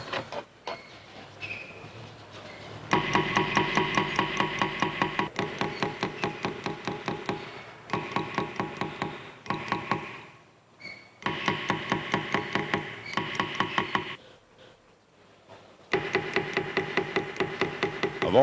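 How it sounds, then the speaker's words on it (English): Gold and silver wire is hammered into patterns cut in copper in Toledo work, a fast run of small, close metallic taps in bursts of several seconds separated by short pauses, with no talking. "Patterns are cut into copper and filled by hammering in gold and silver wire."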